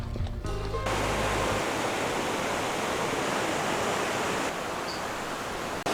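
Creek water rushes steadily at the end of the Wolf Creek Trail in Oregon, a loud, continuous broadband roar close by that fills the whole stretch with no voices.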